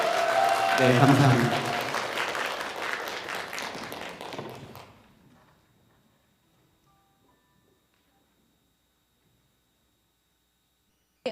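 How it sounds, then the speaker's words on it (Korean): A conference audience of parents and educators cheers and applauds for a presenting team, loud crowd clapping with voices mixed in that fades out after about five seconds, followed by near silence and a brief spoken remark. "3팀 환호를 들어보겠습니다."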